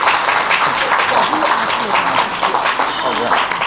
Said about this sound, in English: Give yourselves a round of applause for just being the amazing community that you have